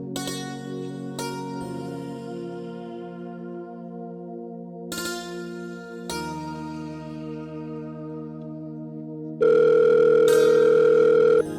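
A telephone rings with chiming electronic tones that ring out and fade, then a steady, loud buzzing tone cuts in near the end.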